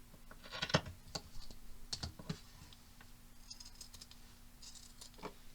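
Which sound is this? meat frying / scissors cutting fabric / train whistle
scissors cutting fabric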